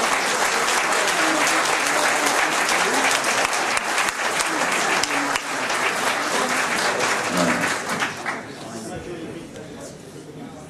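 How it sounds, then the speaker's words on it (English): Loud sustained applause from an assembled audience after a talk, a thick continuous roar of clapping with some crowd voices mixed in, easing off toward the end. "Big round of applause."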